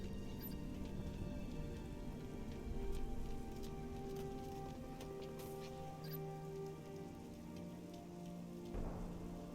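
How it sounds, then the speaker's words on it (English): Rain in Halo: Reach falls steadily as a dense patter on surfaces, faint and even, with scattered louder drops and a brief low rumble near the end. "I always love a good rain in a video game."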